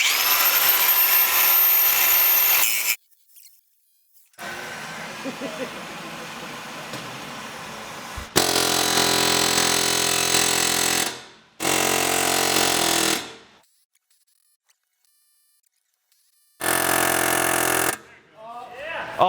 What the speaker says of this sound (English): get an air hammer, and then we're gonna push it through